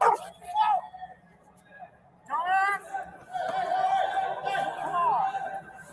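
An off-leash dog barks and yips in sharp, high bursts close by, with agitated human voices mixed in during a tense confrontation.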